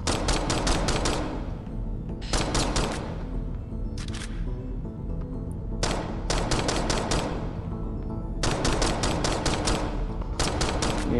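Rapid bursts of video game gunfire from the shooter DeadHeads, loud and close, coming in about half a dozen clipped volleys separated by brief pauses, with no voices.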